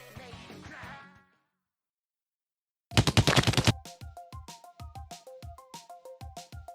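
A burst bomb launcher special in Splatoon 2 fires a rapid volley of bombs, a dense string of sharp pops followed by a steady series of evenly spaced popping bursts with tonal chirps, after a brief silence.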